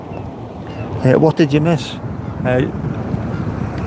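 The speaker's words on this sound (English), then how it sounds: "More seagulls, can you hear them?" Seagulls cry out a few times against blustery seaside wind, while a person speaks briefly nearby.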